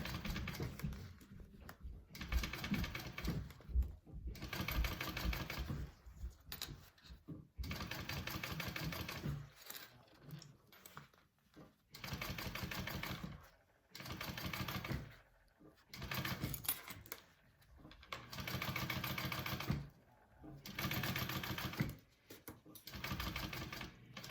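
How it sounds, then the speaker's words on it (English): A sewing machine stitches down the top edge of a hobo bag in several steady runs of whirring stitches, broken by short stops, with a person talking at times between the runs. "you want to sew down the top here."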